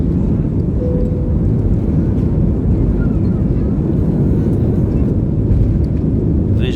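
Steady, loud roar of an Edelweiss Air airliner lifting off from Zurich, heard from inside the cabin as broadband engine and air rumble that holds without letup throughout.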